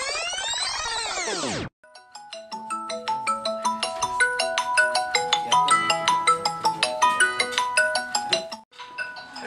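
A phone ringtone plays loud and close, opening with a rising sweep and then a bright, fast run of repeated electronic melody notes that cuts off abruptly near the end.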